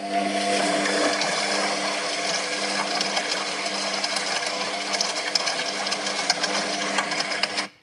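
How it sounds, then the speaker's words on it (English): A washing machine runs steadily with a dense, continuous mechanical churn and rattle, loud and close, with small clicks and knocks scattered through it before it cuts off abruptly at the end; no one speaks. "It's a washing machine."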